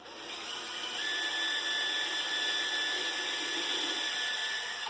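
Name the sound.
drilling a hole in an electrical panel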